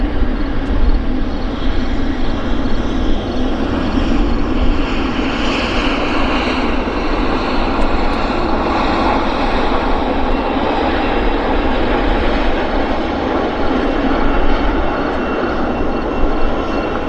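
A heavy airliner at Vancouver Airport gives off a loud, continuous engine roar with a low rumble and a broad rushing hiss that holds nearly constant for about seventeen seconds, without talk.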